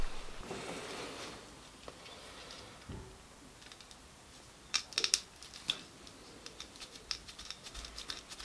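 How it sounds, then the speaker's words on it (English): Tin snips cut through a throttle cable during a Porsche 924 S Turbo build, a few close sharp snips and crunching clicks after a quiet start, with no talk. "let me get my tin snips and see if that will cut cleanly through"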